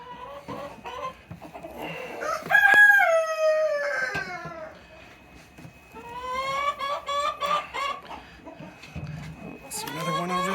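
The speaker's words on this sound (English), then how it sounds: "Oh, do we have a chicken in here?" Hens clucking and squawking inside a chicken coop during egg collection, several birds calling close by in bursts, with a person talking softly among them.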